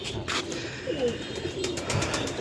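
Teddy pigeons cooing in a loft, soft low rolling coos repeating over steady background hiss, several birds close by with no talking.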